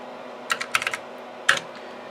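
Fast keystrokes on a Compaq Portable computer keyboard, two quick bursts of several clacky presses separated by a short pause, close and clear over faint background hum, with no talk.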